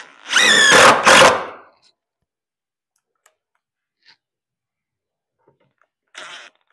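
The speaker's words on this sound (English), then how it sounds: "So let's drive in these screws." A power drill drives screws into 2x4 boards in two short, loud whirring bursts close together, followed by near silence and a brief final burst.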